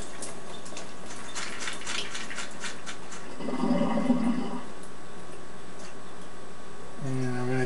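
Beans being rinsed and shaken in water for grilled burritos, a short splashing swirl in the middle followed by a brief pouring rush at the end, close and fairly loud over steady background noise.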